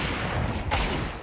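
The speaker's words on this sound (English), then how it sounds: "Oh my god, a Tech 9 headshot." Tec-9 pistol shots in a Counter-Strike match, a quick burst of sharp cracks that sounds close and is mixed into a busy game soundscape with no talk over it.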